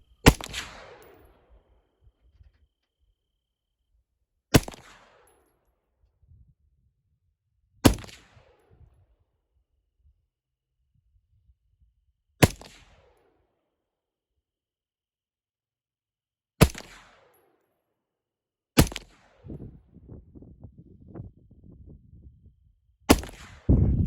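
Seven sharp rifle reports ring out from a 16-inch 5.56 rifle fired at a distant tannerite-filled fire extinguisher, each crack spaced several seconds apart with quiet gaps and faint rustling between shots.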